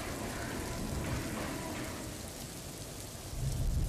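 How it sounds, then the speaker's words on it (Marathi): Continuous heavy monsoon rain falling in Mumbai, a dense, steady hiss of downpour on surfaces that thickens slightly near the end, with no voices. "मुंबईत पावसाची संततधार सुरू आहे"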